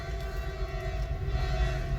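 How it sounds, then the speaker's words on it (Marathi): A passing train sounds a sustained horn-like tone that hums over a low rumble, steady and moderately loud throughout. "सो एक ट्रेन सारकी हॉर्न मारीत येता"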